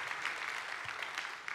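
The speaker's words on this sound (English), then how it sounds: "Give Jake a round of applause." Brief applause from a church audience for a child, soft steady clapping heard at a distance.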